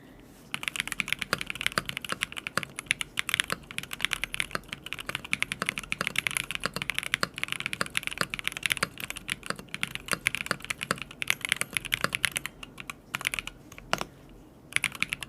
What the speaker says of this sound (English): I haven't typed on a regular keyboard except for this one today